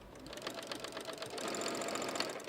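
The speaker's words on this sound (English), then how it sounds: "it's going to feed itself in the sewing machine" A sewing machine stitches fabric for a throw pillow, its needle hammering in a rapid, steady run that holds for the whole stretch at close range, with no talking.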